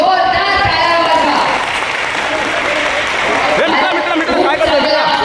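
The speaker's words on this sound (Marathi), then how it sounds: "एक बार ओमीबाईसाठी जोरदार टाळ्या वाजवा" A crowd at an election campaign rally claps loudly and continuously, with voices and cheers mixed into the sustained applause.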